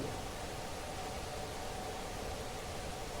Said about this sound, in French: Et là, j'ai mis du bruit rose.